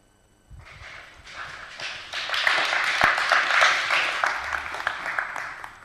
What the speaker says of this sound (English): And we certainly can applaud